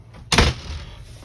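A large drawer aboard the fishing vessel F/V Time Bandit slides open with one quick, loud scraping whoosh that fades into a soft rumble.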